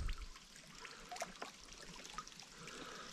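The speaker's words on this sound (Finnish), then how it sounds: "tullut kalliolta vieläkin ihan lorisemalla vesi alas" Rainwater after heavy rain trickles and splashes steadily down a rock face outdoors, a soft continuous burble with faint, irregular drips, with no talking.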